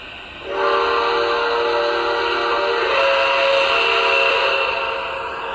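A steady, sustained steam whistle from a Lionel Vision Line Niagara model locomotive's boiler speaker blows with layered harmonic tones, loud and close, holding for several seconds before easing slightly at the end.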